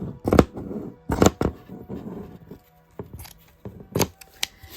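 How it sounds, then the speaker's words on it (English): Scissors snip through yarn while a small woven pouch is made with pins and card, several crisp close cuts coming in separate bursts with soft handling rustle between them. "just snip that"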